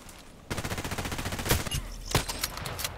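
Gunfire in a sniper-rifle video game: a dense burst of rapid shots starts abruptly, with two sharper, louder cracks standing out, close and loud, with no talk.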